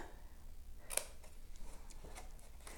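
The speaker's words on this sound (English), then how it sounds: "I'm going to trim along the score line to that first score line here." Paper is trimmed along a score line while making a decorative tissue box, giving a single crisp cutting snap followed by faint ticks and rustles in a quiet room.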